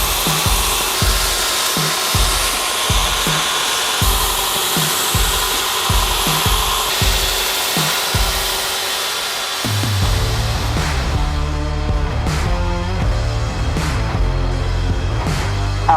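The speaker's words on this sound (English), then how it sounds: "what we now got to do, Jamie, we're going to go to 120 grit belt on these bevels and clean them up." A belt grinder running a 120 grit belt cleans up the bevels on paring knife blades, a loud continuous whine with repeated rhythmic passes of the steel against the belt.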